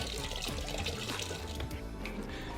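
Scotch whisky glugging steadily as it pours from a liter bottle, a continuous wet liquid rush with gurgling pulses, close and fairly loud with no talking.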